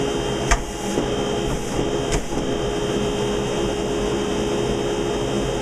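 DIY dust collector running in a small woodshop, a loud steady whooshing drone of suction with a couple of faint clicks near the start, close by with no talk.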